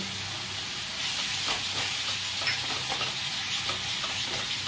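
Spice paste stir-fried over a medium flame for a vegetarian ghugni, a steady hissing sizzle with soft scraping stirs throughout, close and without talk.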